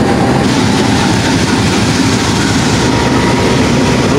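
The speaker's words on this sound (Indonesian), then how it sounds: "Lokomotif dari KA Argo Merbabu CC 206-1350 dilansir" The CC 206-1350 locomotive of the Argo Merbabu train is shunted past up close, with a loud, dense rumble of wheels and rail noise throughout.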